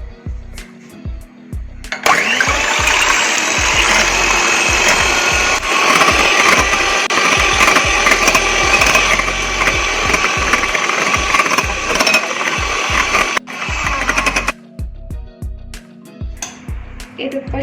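Steady, loud buzzing whir of an electric mixer beating eggs for chocolate pancakes, running continuously for about twelve seconds with clattering bumps before and after.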